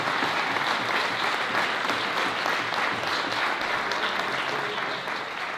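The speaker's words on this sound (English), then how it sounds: "So please give them all a round of applause" Convention delegates at a Yonkers Democratic nomination gathering break into sustained, dense applause for the candidates, a steady wash of many clapping hands that stays loud throughout and eases off slightly at the end.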